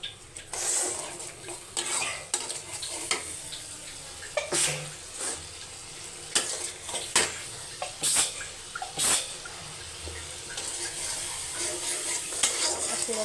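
Spices for an egg curry fry in a hot pan, with a soft sizzle under irregular scraping strokes of a spoon stirring the mixture, close and moderately loud.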